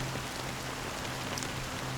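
Rain falls in the video game Honkai Star Rail, a dense, even hiss of drops on surfaces that continues unbroken throughout, with a faint low hum underneath.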